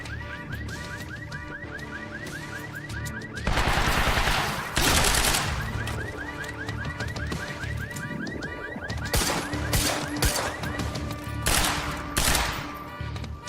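Loud video-game gunfire in Quantum Break, heard as dense bursts of rapid shots with bright cracks and mechanical clatter over an ongoing game soundtrack, fairly close and continuous.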